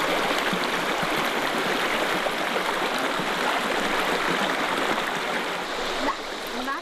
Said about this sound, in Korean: 동굴 지척에 맑고 깨끗한 물이 흐르니